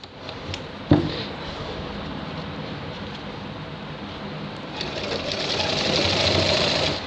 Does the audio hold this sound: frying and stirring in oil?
no